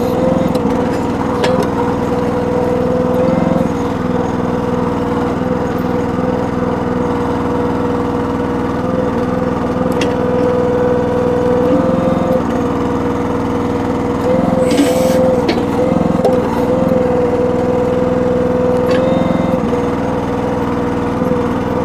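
A Red Rock/Trencherman mini towable backhoe's small engine runs steadily and loud nearby, a continuous droning hum with a few faint knocks and clatters over it.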